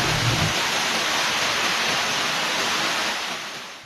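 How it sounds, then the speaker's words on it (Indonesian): A whirlwind brings heavy rain and wind that roar as a dense, continuous hiss, loud and unbroken, easing slightly toward the end. "Kuwi ana angin bro, angin puting beliung, ekor angin puting beliung"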